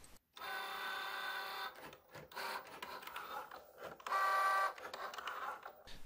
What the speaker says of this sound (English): you send it to the Cricut machine via Bluetooth, and basically it's like a printer with a cutting blade